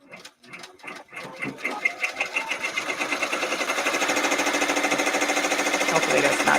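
Embroidery machine sewing decorative stitching that mimics a jean pocket, starting with slow uneven knocks that build into a fast, loud, steady rhythmic chatter.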